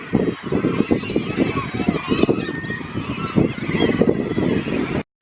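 A crowd of shorebirds in a feeding frenzy at a beach, honking and calling over and over, dense and close, with overlapping calls throughout.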